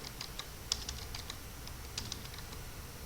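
A command is typed on a computer keyboard, a quiet run of close, irregular key clicks with a couple of firmer taps, with no talking.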